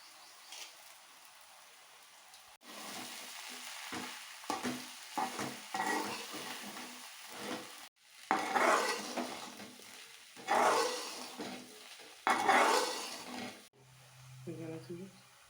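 Washed, squeezed puffed rice being stirred in a pan with turmeric and salt, giving scraping, rustling bursts of stirring with a faint sizzle, in a few pauses between stretches of speech.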